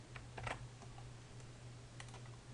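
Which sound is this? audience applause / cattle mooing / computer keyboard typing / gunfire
computer keyboard typing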